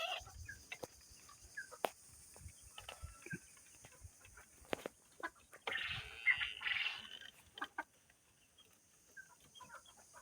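Native deshi chickens on a poultry farm give scattered, faint clucks and soft clicks in a quiet shed, with a short burst of noise midway.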